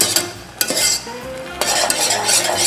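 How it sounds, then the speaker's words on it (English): A mixture being whisked in a pot while making breakfast, with scraping and clinking strokes of the whisk against the pot, close and fairly loud, including a few sharp knocks, and no talking. "because when you whisk it, all the little particles dissolve out"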